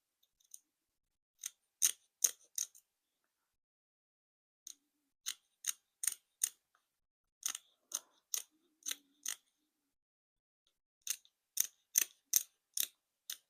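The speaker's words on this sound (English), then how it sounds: "I'm going to cut this extra off." Small scissors snip thread in crisp, close clicks while beading, in separate clusters of quick cuts with quiet gaps between them.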